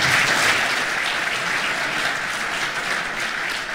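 Sustained audience applause at a live event, dense, loud and steady throughout with no voices over it.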